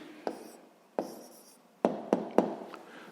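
A math answer written by hand on paper, soft scratching pen strokes with a few sharp taps in an uneven rhythm, close and quiet.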